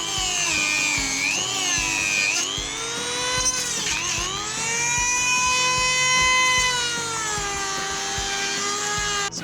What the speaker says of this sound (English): we have to actually make it a lot bigger than that with a Dremel